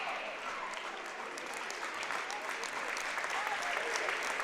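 A high school basketball student section cheers and applauds for the Bellingham seniors in a gym, a steady, sustained wash of clapping and crowd noise with a commentator talking over it.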